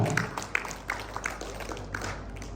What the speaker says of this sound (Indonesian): Kok sedikit banget yang tepuk tangan?